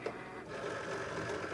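A Cricut Explore Air 2 cutting machine feeds a sticker sheet, giving a steady mechanical whir and buzz of its motors, close and continuous without talk.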